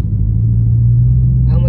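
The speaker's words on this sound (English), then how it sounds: "I don't like this car going that fast like that" A Dodge Hellcat's engine holds a loud, deep, steady rumble as the car accelerates hard, heard from inside the cabin, with a brief voice at the very end.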